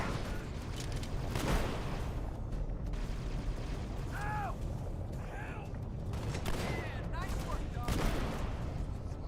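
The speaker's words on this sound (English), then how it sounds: "More brute shots." Brute Shot grenade launcher firing in a Halo video game: repeated heavy blasts and explosions over a dense, noisy battle din, with mechanical clanks and rattling in between.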